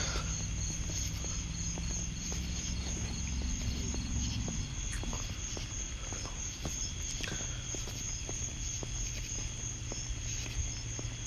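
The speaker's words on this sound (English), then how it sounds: "Crickets and footsteps." Crickets chirp steadily in the background while soft-soled shoes pad along at an even pace, fairly quiet and close.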